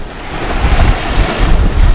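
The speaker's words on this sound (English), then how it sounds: "There's still a lot of waves. Still out on the ocean." Ocean waves and strong wind at night aboard a sailboat at sea, with a loud, close roar of surf and deep wind buffeting across the microphone in uneven surges.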